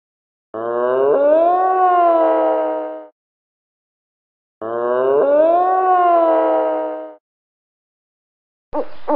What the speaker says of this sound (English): Moose.